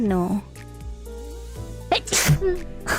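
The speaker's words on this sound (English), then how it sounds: "I usually try to mute before sneeze." A single sharp human sneeze bursts out near the end, loud and close, following talk with background game music, and a voice speaks again afterward.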